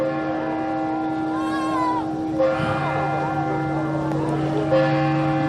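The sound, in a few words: church bells ringing seven o'clock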